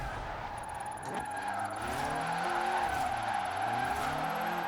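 Honda-powered Mini drifting in Forza Horizon 4, its engine droning steadily while the tires spin and scrub sideways, a continuous mid-level roar with wavering pitch throughout.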